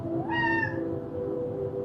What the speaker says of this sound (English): Even my cat said yes.